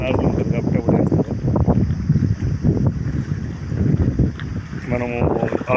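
Strong wind blows by a river near the sea, battering the microphone with loud, continuous rough gusts, while a person talks intermittently under the noise.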